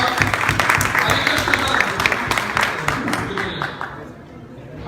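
Audience applause at a cricket coaching event in Maryland, USA: a dense, steady patter of many hands clapping together, with crowd chatter mixed in, thinning slightly toward the end.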